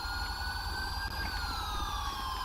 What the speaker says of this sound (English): dismiss all of these individuals so that they can cut off their sirens